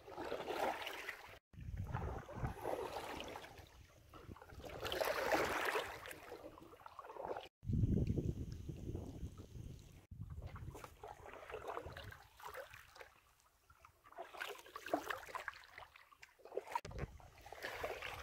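A canoe moves on a river in the Adirondacks, with quiet paddle strokes, drips and water swishing along the hull, faint and close, recurring irregularly over a soft outdoor background.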